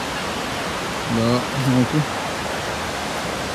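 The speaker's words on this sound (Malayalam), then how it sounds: "ഇതാണ് ആറ്റിൻപാറ വെള്ളച്ചാട്ടത്തിൽ നിന്ന് വെള്ളം ഒഴുകി പോകുന്നത് കേട്ടോ" Water rushing over rocks below Adyanpara waterfall in Nilambur, a steady broadband roar held at even loudness throughout, with a brief spoken word in the middle.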